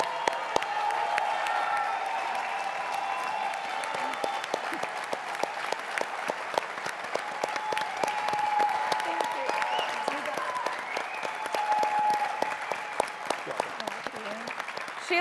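Audience at the CPAC 2022 conference breaks into sustained applause, dense steady clapping with some cheering running the full length, with a few scattered voices mixed into the crowd noise.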